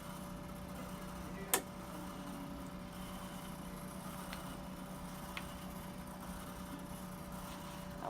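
A blood analyzer in a clinical pathology lab runs a blood sample with a quiet, steady electronic hum, broken by one sharp click and a few faint ticks.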